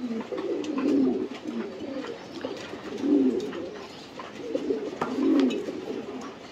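Racing pigeons from a national-winning line coo in repeated low, soft phrases, three bursts about two seconds apart, close by and unaccompanied by talk, with faint chirps and background noise.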